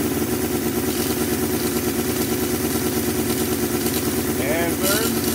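Scale SCX6 RC crawler with V8 drivetrain running steadily in second gear, a continuous mid-pitched mechanical whir with gear clatter, close and even throughout with a brief higher whine near the end.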